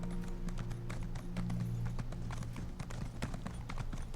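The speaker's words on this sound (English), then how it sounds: "riding our horse right up to the castle gates." Horse hooves clip-clop steadily at a riding pace in the game Elder Scrolls Online, approaching castle gates, with a low droning background under the repeated hoofbeats.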